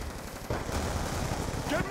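Rapid gunfire in Call of Duty, shots punching through a wall, with a burst of crackling shots starting abruptly and continuing steadily at close range under game noise.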